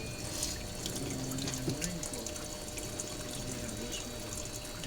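Water streams steadily into a panning bowl, entering from the side, a continuous close rushing and gurgling wash with no clear pauses.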